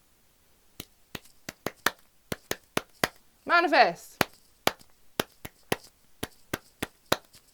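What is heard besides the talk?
hand clapping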